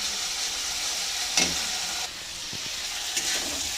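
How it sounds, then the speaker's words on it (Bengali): Spice masala sautés in a pan, a soft continuous sizzle and hiss close by, with a few brief stirring scrapes and light knocks. "এদিকে মশলাটা কষাচ্ছি"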